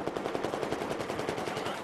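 Steady machine gun fire in Battlefield 4 on Xbox One, a continuous fast-repeating burst of evenly spaced shots at moderate loudness for the whole short stretch.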